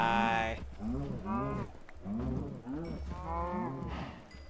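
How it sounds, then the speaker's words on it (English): Cows in a Minecraft-style video game give repeated drawn-out moos, four or five calls spaced across the stretch, loud and close with a faint clicking in the background. "I'm just gonna start off by murdering these cows"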